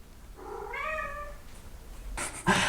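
Pet cats on a bed give a strange, wavering, drawn-out meow up close, then a short silence before a burst of rustling and scuffling near the end.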